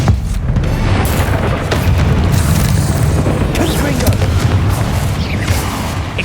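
Confringo fire blast spells from Hogwarts Legacy boom repeatedly in a spider fight, several heavy, close explosive bursts rising out of dense, continuous combat noise.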